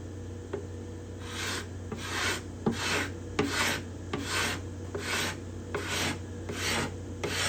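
Hand scraper rasping along the bindings and purfling of a cedar guitar top, about ten steady, evenly spaced strokes, close and moderately loud with no talking.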